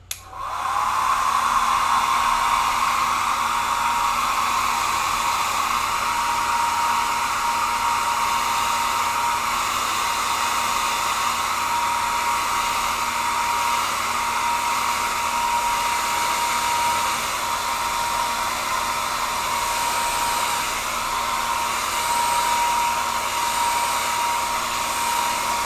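A hair dryer blows continuously on a painting, a loud, steady whirring hiss that starts abruptly and holds at an even level without pause.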